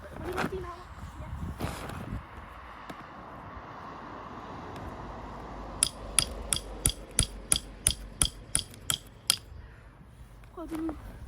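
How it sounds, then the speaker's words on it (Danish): A hammer strikes a Samsung TV in a rapid burst of about a dozen sharp, clanging hits, preceded by quieter handling noises and low background rumble, with people speaking around it. "Prøv lige med din hammer."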